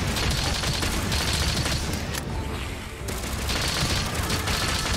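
Rapid gunfire from Monster Hunter Rise gameplay, a dense stream of bursts and booms that briefly dips near the middle and then resumes, loud and without talk.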